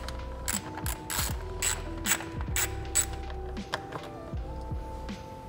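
Ratchet removing 10 millimeter bolts from the coolant overflow tank of a 2022+ GR86/BRZ, close rapid clicking strokes in quick bursts, steady rhythmic ratcheting with brief pauses between bolts.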